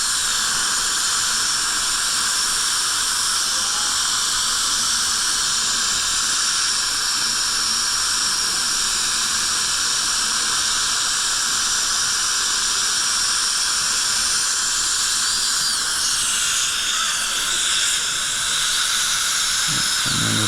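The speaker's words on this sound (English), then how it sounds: "Smoothing out the edges of that box form." A high-pitched dental drill whines continuously and close while it smooths the edges of a box form on a tooth, holding a steady tone with slight shifts near the end.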